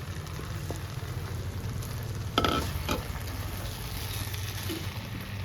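Dried fish frying in a pan with brinjal and tomato for a Telugu vankaya vatti chepalu curry, a steady low sizzle with a couple of brief scraping stirs, close and without talk.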